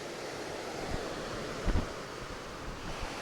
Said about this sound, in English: Watch the waves come in.